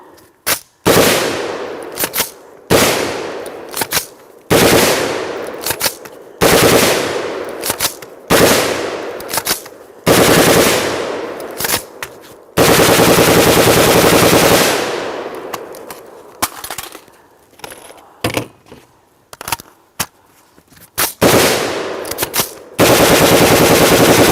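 A POF-USA rifle fires loud, close rapid bursts and strings of shots, broken by pauses and interruptions consistent with double feeds, with sharp crack-heavy reports and some metallic clangs between volleys.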